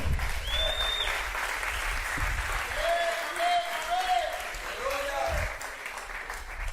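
Church congregation applauding steadily throughout, a broad wash of clapping with voices and whoops rising over it and a faint sustained tone near the start.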